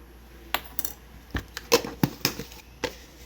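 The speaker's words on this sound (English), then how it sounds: "And then mix that in." Maple sugar is stirred into cookie dough in a bowl, making a string of light clinks and scraping taps of utensil against dish, irregular and close, with no talk.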